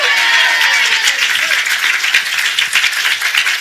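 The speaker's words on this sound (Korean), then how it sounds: "우리 하나님께 박수로 영광" A church congregation at a Korean Sunday morning worship service claps together, a loud, dense wash of many hands sustained throughout, with a faint voice early on and slight swells in intensity.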